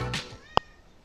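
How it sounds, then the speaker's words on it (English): A single short cat meow from the video game Persona 3 FES, a brief clear tone standing alone in a quiet scene after a soft bit of background sound. "Cat."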